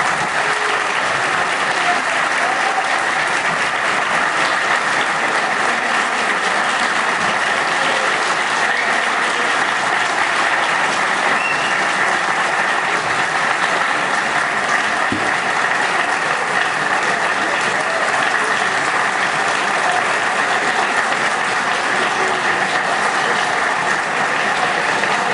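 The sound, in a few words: applause for professor Alaor Café Alves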